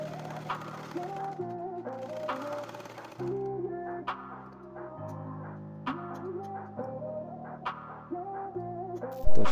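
A sewing machine stitching a kameez runs in steady mechanical bursts, its motor hum and rapid needle ticking close and continuous, pausing and restarting between runs.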